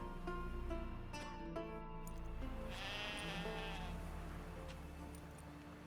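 Sheep in the game The Witcher 3 bleat several times over a low ambient game soundscape, the calls close and fairly clear, with no speech.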